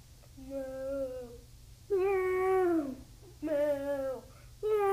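A person imitates a cat's meow three or four times in drawn-out, wavering calls, close and clear over a low steady hum.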